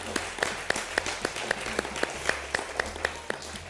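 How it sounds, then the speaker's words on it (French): Studio audience on a French cooking competition show claps for a contestant: sparse, loose applause with several sharp individual claps standing out at an uneven rhythm, moderately close. "Eh bien, on vous applaudit."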